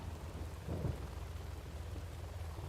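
A distant rumble of thunder from lightning on a video game map, one brief low roll rising and fading beneath a steady hiss of rain.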